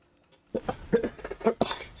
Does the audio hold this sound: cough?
yes